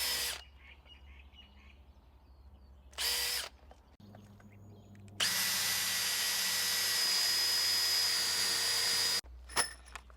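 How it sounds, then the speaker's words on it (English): A power drill pre-drills screw holes in round timber bracing, with a short burst, a pause, then a long steady whining run that stops and restarts briefly, close and loud, with no talk. "and then I'm pre-drilling the holes."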